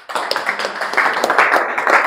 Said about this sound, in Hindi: जोर से ताली बजाओ बच्चे के लिए.